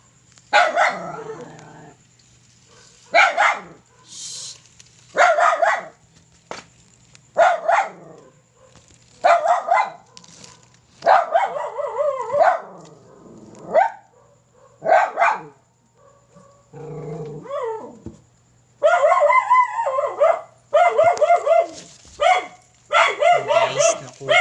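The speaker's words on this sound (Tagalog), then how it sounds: "Ingay ang aso dito guys." A dog barks loudly and repeatedly in close, sharp bursts with short gaps between them, while people nearby talk briefly now and then during an outdoor hunt for a monitor lizard.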